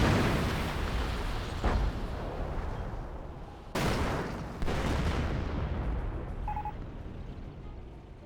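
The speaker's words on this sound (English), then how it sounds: "Hummel getting close range barrage, nails the Churchill" A Hummel artillery barrage in the video game Company of Heroes, with several heavy booming blasts and sharp impacts over a dense rumbling battle noise, fairly loud and without talk.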